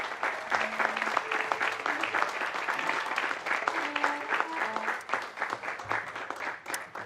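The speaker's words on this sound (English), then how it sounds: "Would you please give them a round of applause?" An outdoor crowd at a live drone show event applauds, a dense, sustained patter of clapping with occasional cheers and voices mixed in, fairly loud and continuous.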